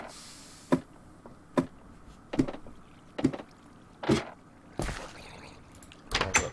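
Wooden doors in Minecraft opening and closing, a series of about seven sharp clacks spaced roughly a second apart, fairly close and standing alone without talk.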